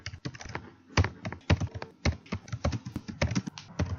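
Code is typed on a computer keyboard in rapid, uneven bursts of sharp, close key clicks with brief pauses between them, loud and dry with no voice over them.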